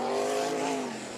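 Vintage sprint cars roar around the dirt oval at Meridian Speedway coming out of turn two, a loud sustained engine drone with a slowly falling pitch as they pass.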